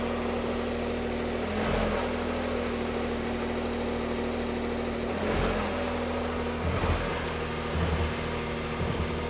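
A car engine runs steadily with the wheels lifted off the ground, holding a low idle hum that rises in a few brief revs, fairly close and moderately loud.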